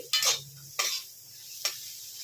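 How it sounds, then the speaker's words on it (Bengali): Three separate spatula strokes scrape through previously fried bitter gourd in a pan, each a short, sharp swish with a faint sizzle lingering between them. "দিয়ে উচ্ছেটাকে একটু ভালো করে নাড়িয়ে নিচ্ছি।"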